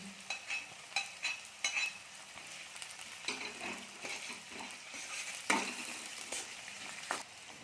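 Onions with chopped chilli frying in a pan sizzle quietly and steadily, with repeated scraping strokes of a spatula as they are stirred.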